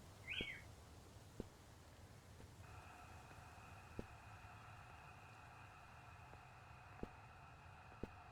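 Bird calls in the video game Eyes Everywhere: Birds Watching, a short chirp near the start followed by a faint sustained tone and scattered soft ticks over quiet background hiss.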